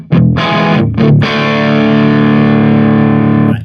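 Electric guitar through a Tone King Royalist amp with the volume at 8, loud and driven: two short clipped chords, then one long sustained ringing chord that holds for a few seconds.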